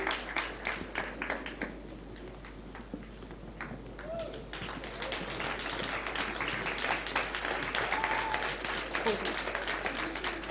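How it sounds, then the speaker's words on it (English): A school audience at a student speaking event gives the speakers on stage a round of applause, starting thinner and building into fuller, steady clapping with scattered voices. "I think our speakers need another huge round of applause."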